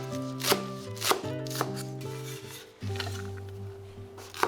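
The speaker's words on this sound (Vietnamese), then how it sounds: "Sắc nhỏ hành lá để làm dầu hành mình ăn kèm ha." A knife chops green onions on a board with sharp, evenly spaced strikes, close and clear, over a low steady background hum.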